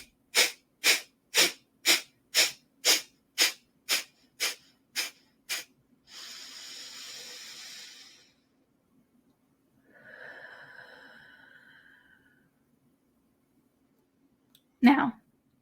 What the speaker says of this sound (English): We'll go for 12 of these out breaths.